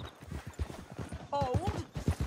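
Horse hooves in the video game Red Dead Redemption 2 clop in a quick, steady galloping rhythm, close and prominent, with a brief whinny partway through.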